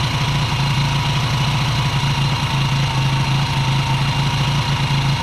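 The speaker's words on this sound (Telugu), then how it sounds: "ఈ ఇంజెక్షన్ అనేది ఇంటేక్లోకి వెళ్ళే కొద్దీ ఇంజిన్ యొక్క నాయిస్ కూడా చాలా క్లియర్గా మారుతుంది." A 100cc motorcycle engine idles steadily and close up while a carbon antidote injection is drawn into its intake, giving an even, continuous putter with no voices.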